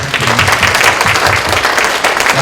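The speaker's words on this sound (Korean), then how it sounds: "하나님께 영광의 박수 한번 돌리겠습니다" A church congregation claps together in praise during a gospel gathering, steady dense applause filling the room for a few seconds with no one speaking.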